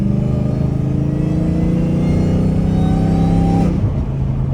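A straight-piped, catless Dodge Challenger Hellcat Redeye with only a catback bellows a loud, steady rev held for several seconds, then drops off sharply to a lower rumbling idle.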